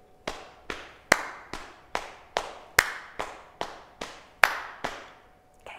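Crisp hand claps in a body percussion pattern, about a dozen sharp, close claps in a steady, slightly grouped rhythm with a short ring after each and no talking.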